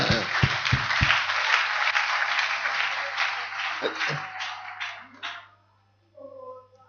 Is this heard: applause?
yes